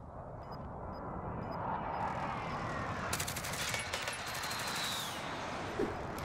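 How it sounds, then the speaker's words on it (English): An airstrike in Call of Duty Warzone rolls in as a continuous distant barrage of rapid explosions and gunfire crackle, swelling in the middle and holding loud to the end. "Airstrike target marked."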